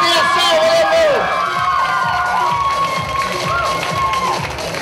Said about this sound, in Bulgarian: искам първо много силни аплодисменти за Нели Иванова, Гесетия Саволова!